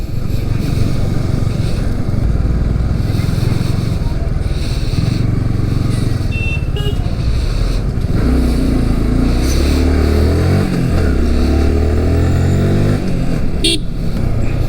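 A motorbike engine drones steadily nearby, rising and falling as it rides along near Athirapally Waterfalls in Kerala, with a short horn toot near the end.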